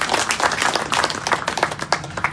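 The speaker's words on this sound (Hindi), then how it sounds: "तालियां।" Crowd applause at a farmers' meeting, a steady patter of many hands clapping throughout, fairly close and unbroken, with no talk over it.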